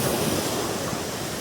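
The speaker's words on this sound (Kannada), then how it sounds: "ಈಗ ಬೀಚಿನ ಅಲೆ ನೋಡಿ." Sea waves washing onto Malpe beach, a steady, wide hiss of surf with some wind, constant and fairly close, with no voices.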